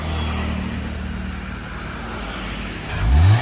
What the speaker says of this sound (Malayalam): ഈ ഏരിയ ഫുള്ള് വണ്ടി പോകുന്ന വഴിയാണ്.